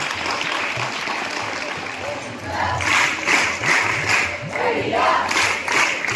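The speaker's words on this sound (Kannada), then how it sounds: "ಜೋರಾಗಿ ಚಪ್ಪಾಳೆ ತಟ್ಟಿ ಮಕ್ಕಳನ್ನು ಅಭಿನಂದಿಸಬೇಕು" Audience applause at a student felicitation ceremony in a college hall, a steady sustained clapping of a large crowd across the whole stretch, swelling louder in the second half.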